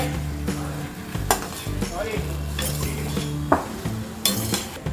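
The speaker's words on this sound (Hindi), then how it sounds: "हमने 2 मिनट आलू को फ्राई कर लिया है।" Boiled potatoes fry in a pan with spices for a spiced yogurt potato curry, giving a steady sizzle. A spoon scrapes and stirs at intervals, and sharp metallic clinks and knocks against the pan stand out among the sizzling.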